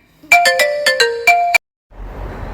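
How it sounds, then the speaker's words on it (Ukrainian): An electronic phone ringtone plays a short melodic run of bright chiming notes, then cuts off into soft noise. "Ой, чекайте момент, хтось хтось дзвонить."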